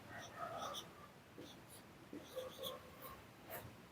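A pen writes a number out by hand during a Hindi arithmetic simplification lesson, giving faint, intermittent scratchy strokes over a low background hiss.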